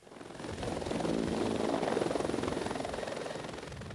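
Helicopter rotor chop thrums steadily at a hospital helipad, swelling in loudness and then fading slightly, with no one talking.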